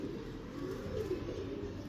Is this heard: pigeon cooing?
yes